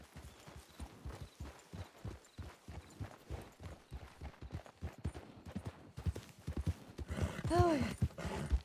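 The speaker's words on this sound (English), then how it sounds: "I thought I heard a horse behind me" Hooves clip-clop in a steady walking rhythm from a horse in the Red Dead Redemption 2 video game, moderately close, with background game sounds and a brief whinny-like tone near the end; no speech over it.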